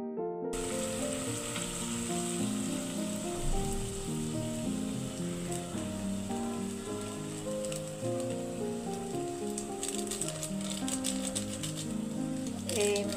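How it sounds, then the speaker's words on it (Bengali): Rice and lentil khichuri cooking in a pan for breakfast, with a steady sizzle and frying hiss running under continuous background music throughout. "সকালের জন্য খিচুড়ি রান্না করতেছি।"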